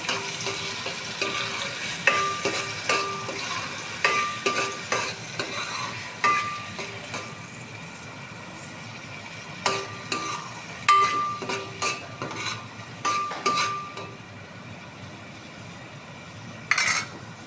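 Sliced onion frying in a pan for a fish fry, a steady soft sizzle with intermittent scraping and clinks of a spoon stirring against the metal, close and fairly quiet.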